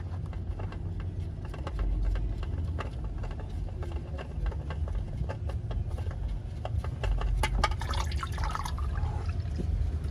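Motor oil from an 8th generation Honda Accord drains from the oil filter mount in a steady low trickle and dribble, with scattered drips and faint splashes over a constant rumbling background, and no talking.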